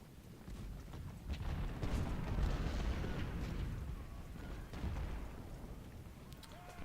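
Deep, rolling artillery rumble from a Civil War battle game set at Stones River, with heavy booms swelling and fading over several seconds amid continuous low battlefield noise; no voices.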